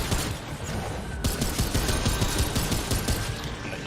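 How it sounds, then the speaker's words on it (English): Rapid, dense pistol gunfire in the video game Remnant 2: a steady close-range burst of sharp shots running without pause for about four seconds, with no talking over it. "I'm gonna dump him with pistol ammo right now."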